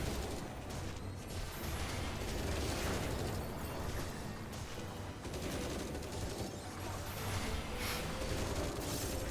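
Gunfire effects from a Final Fantasy XIV battle, with dense, sustained bursts and booms layered over a continuous loud roar of combat noise that runs the whole length without pause.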